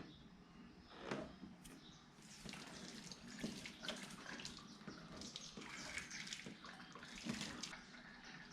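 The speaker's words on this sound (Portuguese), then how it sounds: "Que agora a gente vai tirar o excesso de água" Hot water is poured off cooked fishing bait, splashing and gushing unevenly with bursts of heavier pouring and spattering against a container, moderately close and without talk.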